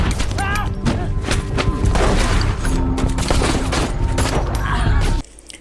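Gunfire in a dramatic film scene, loud dense bursts of shots and booms layered with music and effects, continuous and intense before cutting off abruptly near the end.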